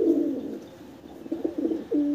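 Domestic pigeons at a home loft cooing in soft, repeated low murmurs, close by, with a firmer coo near the end and no talk.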